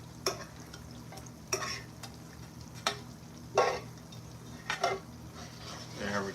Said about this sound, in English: we're going to baste it on our spicy buffalo sauce